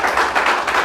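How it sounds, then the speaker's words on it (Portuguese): Congregation applauding during a church service, a dense, steady wash of many hands clapping close by, continuous for under a second with no voices on top. "Pode aplaudir"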